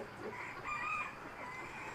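Rooster crowing faintly in the distance, a single drawn-out call rising over a hushed outdoor backdrop.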